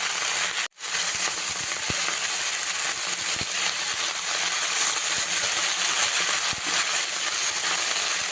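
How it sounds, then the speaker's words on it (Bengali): Bottle gourd greens and hilsa fish head sizzle steadily in a hot pan as they are stirred, a constant bright hiss with a few faint scrapes and taps, and one brief dropout near the start. "এবার ভালো করে নাড়াচাড়া করবো, নাড়তে নাড়তে জল বেরিয়ে যাবে লাউ শাক থেকে"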